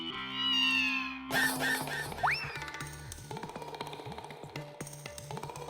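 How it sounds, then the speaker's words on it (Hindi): A house cat meows indoors in a TV comedy scene, a couple of rising and falling cries near the start, followed by plinking cartoonish sound effects and background music. "अभी बेडरूम से बिल्ली की आवाज आ रही थी"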